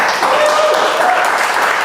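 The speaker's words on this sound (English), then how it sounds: "Can we get a little warm-up round of applause" Warm-up round of applause from an audience at a startup talk, a loud wash of clapping that holds steady for about two seconds, with some voices or cheering mixed in.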